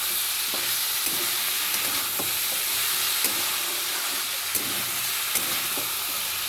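Chopped tomato frying into a vegetable curry of bean seeds in a pan, giving a steady, close sizzle and hiss with light stirring scrapes and soft clicks throughout.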